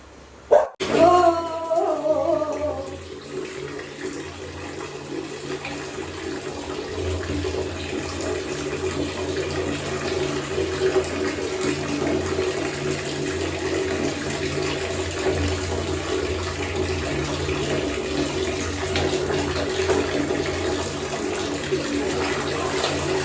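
Hot water runs steadily from a tap to fill a bath, a continuous close rushing stream that follows a short voice and a knock at the start.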